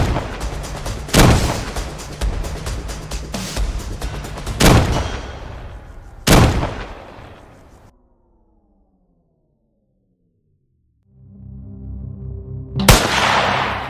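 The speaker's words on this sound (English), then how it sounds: "the silence was shattered by the crack of the first gunshot" Rifle shots during a wild boar hunt in a remote mountain valley, several sharp loud cracks and booms with rolling echoes, then a quieter lull before another blast.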